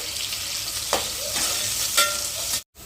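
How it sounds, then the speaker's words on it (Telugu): Onions, green chillies, carrots and ginger paste fry in a pan for milmaker biryani, a steady close sizzle with occasional stirring scrapes and clicks, then a brief silent gap near the end. "ఎర్రగడ్డలు, పచ్చిమిరపకాయలు, క్యారెట్లు అయితే మంచిగా ఎగినాయి"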